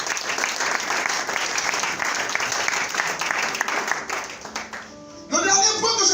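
A church congregation bursts into sustained applause, dense clapping filling the room before it thins out, then a voice and music-like sounds take over at the end.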